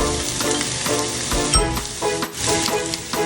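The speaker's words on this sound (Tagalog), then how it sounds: "while the chicken is cooking" Chicken sizzling and frying in a pan for a homemade chicken curry, a steady loud crackle with occasional stirring scrapes, no talking.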